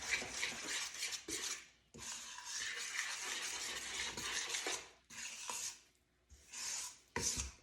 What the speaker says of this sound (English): So I'm going to go ahead and add 1 1/2 cups of bread yeast, or bread flour. And I'm going to go ahead and give that a stir.